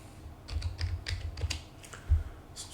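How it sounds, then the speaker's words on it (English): Keys clatter on a computer keyboard in short irregular bursts of quick, close taps, with a slightly heavier thump near the end and no talking. "Let's see what I can find by just typing in poke."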